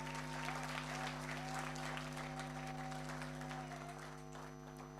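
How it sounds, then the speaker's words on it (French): Steady applause from a crowd, dense clapping throughout that fades slightly toward the end, with a constant electrical hum underneath. "Applaudissez pour ces jeunes, s'il vous plaît."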